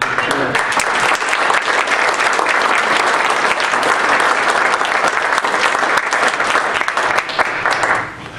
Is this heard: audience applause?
yes